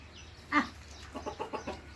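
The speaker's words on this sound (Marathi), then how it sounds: "कोंबड्या चपाती बघा कशी खातात." Farm chickens cluck softly while pecking at pieces of chapati, one sharper cluck followed by a quick run of lighter clucks close by.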